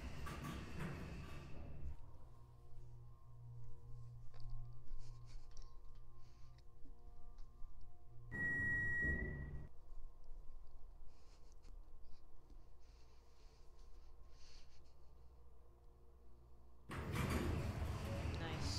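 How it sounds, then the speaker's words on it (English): A low, steady mechanical hum of an elevator motor in Roblox drones for most of the stretch, with a brief tonal chime in the middle and louder noise bursts at the start and end. "Alright, I'll listen to the motor."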